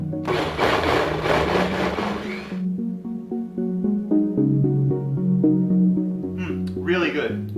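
Blender whirring as it purées cherry tomatoes and other fresh garden vegetables for chilled gazpacho, loud and steady for about two and a half seconds before cutting off, with a voice talking afterward.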